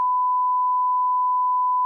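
A single pure censor beep holds one steady electronic tone for nearly two seconds, loud and clean over silence, then breaks off abruptly.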